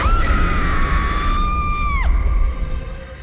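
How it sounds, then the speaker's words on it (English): A person lets out one long, loud scream at the High Temple of the Lamanai Maya ruins during a ritual sacrifice reenactment, holding a steady pitch before it breaks off sharply and leaves quieter background sound. "The first thing all these people would hear is a scream."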